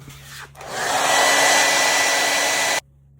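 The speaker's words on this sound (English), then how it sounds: "I also use my hair dryer to dry my paint as well" A hair dryer switches on with a rising whoosh and blows steadily at full power for about two seconds, drying airbrush paint on a hat, then cuts off abruptly.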